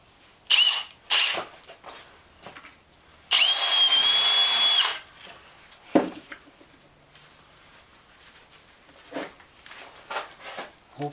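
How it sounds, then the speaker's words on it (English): Power drill boring a slightly larger hole in a GMC Safari grill, a single sustained whine of about two seconds between short bursts of workshop clatter, close and loud, no talk. "I think I'll go one drill bit size bigger"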